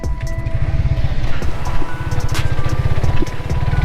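A Suzuki GSX S150 motorcycle engine is held at about 5,000 RPM, giving a loud, close, steady throbbing pulse that lasts a few seconds with no talking.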